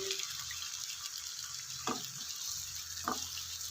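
Diced potatoes frying on a medium flame for a Spanish omelette, with a steady soft sizzle throughout and two brief scraping clicks as they are stirred.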